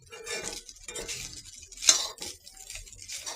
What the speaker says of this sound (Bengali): রাইসটাকে অনবরত সুন্দরভাবে ভাজতে হবে। এখানে আমি রাইস ভাজতেছি